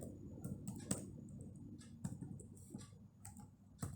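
Quiet, irregular clicking of keys on a computer keyboard, a loose patter of taps with a few sharper strikes, close and with no one speaking.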